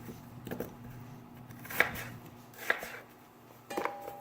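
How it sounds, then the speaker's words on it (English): A knife cuts through an apple in a few separate crisp slices, each a short sharp crunch against a quiet background hum, spaced roughly a second apart. "So you're just going to peel it, slice it, cut it off."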